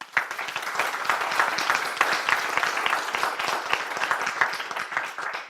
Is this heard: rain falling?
no